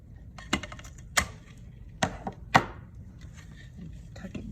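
Snips and sharp crunches of excess material being cut off a dollar store terrarium, a few distinct cuts spaced apart over a faint background, close and moderately quiet.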